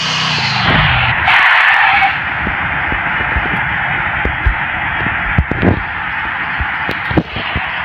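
A motorbike in the video game Free Fire, with a brief skidding screech near the start and then a steady, loud engine drone held throughout, broken by a few sharp clicks and knocks.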